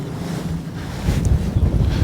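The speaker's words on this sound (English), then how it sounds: "Oh, it's a bit breezy." Wind gusts buffet and rumble, rising louder in the second half with low blustery roaring and no talk.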